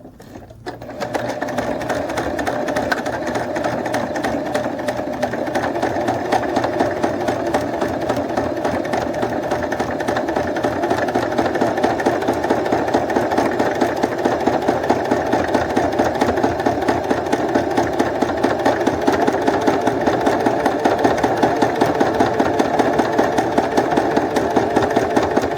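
A sewing machine stitching fabric and backstitching at the start of a seam, running loud and close in a fast, steady mechanical whir that continues without pause.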